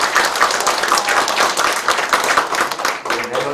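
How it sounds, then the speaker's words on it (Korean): A crowd at a mayor's village town-hall meeting in Yulmyeon claps for a few seconds, loud and close, with rhythmic bursts before the applause drops and a voice begins speaking. "고마운 뜻으로 박수 한번 쳐주시기 바랍니다"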